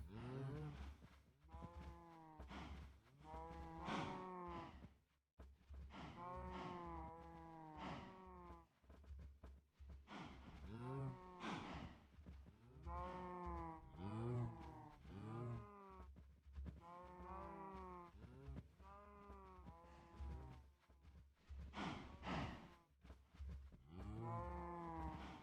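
Cows in a Minecraft cow pen moo over and over in a rhythmic, overlapping chorus of drawn-out calls that lasts the whole clip, loud and close, with no talking over it.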